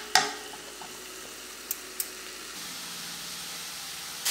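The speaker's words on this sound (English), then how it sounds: "So it's gonna get a little sizzly." Chicken pieces fry in a pan with a steady, close hiss of sizzling, broken by a few sharp pops and clicks of the food being moved, with no talking.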